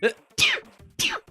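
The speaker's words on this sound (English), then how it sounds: "You sneeze like a sparrow." Three small, sharp sneezes burst out in quick succession, each a brief bright puff of breath, close to the microphone with no talk around them.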